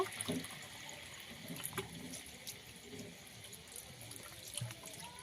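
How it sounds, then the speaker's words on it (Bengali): Water pours into a pan while jaggery pitha is being made, a faint splashing trickle that is steady and quiet throughout. "এর মধ্যে জল দিয়ে দেব"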